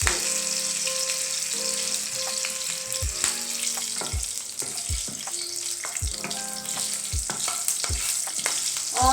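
Green chillies sizzle steadily in hot oil for a dal tadka, with spoon strikes and stirring knocks sounding at intervals throughout; no talking.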